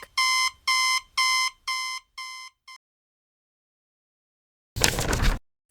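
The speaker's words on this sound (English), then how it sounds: "He jumped really high when the alarm went beep, beep." An alarm clock beeps loudly in five rhythmic bursts followed by a short sixth, then silence, and a brief burst of other noise near the end.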